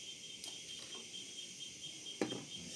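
Cicadas drone faintly and steadily in the background at an outdoor launch gathering in Marsella, Risaralda, Colombia, a thin continuous insect buzz with a brief louder knock or rustle near the end.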